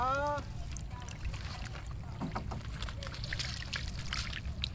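A speedboat engine on water during a fishing trip after rain, heard as a steady low rumble running throughout, with a voice talking briefly at the start.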